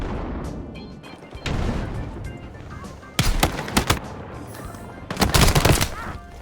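M2010 ESR sniper rifle fire in a video game: a few sharp, loud broadband shots in two clusters around the middle and near the end, over a steady game background.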